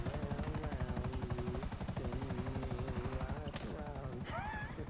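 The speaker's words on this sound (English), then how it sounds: "I've got a helicopter flying down." Helicopter in the video game GTA V, a steady rapid rotor chop throughout, with game effects and brief voices layered over it.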